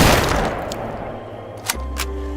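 Rifle gunshots at a Soviet shooting range: a loud, echoing blast at the start that fades out, then two sharper, fainter cracks near the end.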